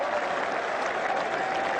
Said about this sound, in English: The crowd erupt.